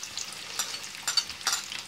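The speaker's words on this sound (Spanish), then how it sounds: "Ahora voy a echar una poquita de cebolla que la he picado pequeñita." Finely chopped onion hits a hot pan and sizzles in short, soft crackling bursts, fairly quiet and close, with no voices.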